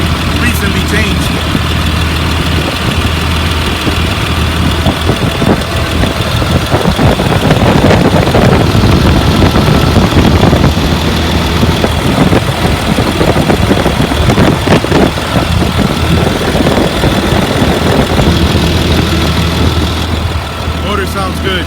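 A 2004 Blue Bird All American 72-passenger school bus with its engine idling, a steady loud diesel rumble running throughout while a person talks over it.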